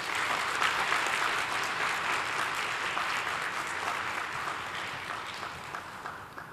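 Church congregation gives a big round of applause welcoming a missionary to the front, a dense, steady clapping that holds throughout and fades slightly at the close.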